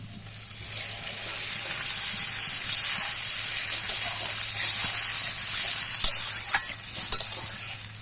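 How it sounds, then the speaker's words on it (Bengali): Milk poured into a hot pan for egg malai curry sets off a steady, watery hiss and bubbling sizzle, with a few faint clinks toward the end and no talking. "এবার দুধটাকে দিয়ে দেব"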